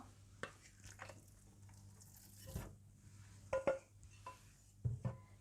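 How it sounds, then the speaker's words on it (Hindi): Chicken mince goes into a cooking pot with quiet scrapes, soft squishes and a few sharp metallic clinks of a spoon against the pot, spaced out and close. "देचकी में डाल लें चिकन का कीमा"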